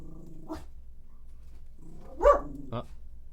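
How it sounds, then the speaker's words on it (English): A dog gives a few short, muffled barks and a low growl in an otherwise quiet room, the loudest bark near the end. "barking dog. She thinks another dog's in the house, apparently."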